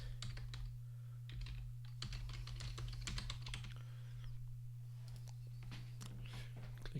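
Quiet tapping of keys as a URL is typed on a computer keyboard, irregular clusters of clicks running steadily throughout over a constant low electrical hum.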